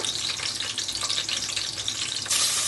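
Green chilli pieces frying in hot oil in a pan for a chicken dish, giving a steady, close, crackling sizzle throughout that swells louder near the end, with no talking.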